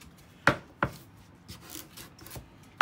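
A knife cuts a butternut squash in half on a board, with several sharp chopping thuds at irregular intervals and faint scraping between them, close up and without talking.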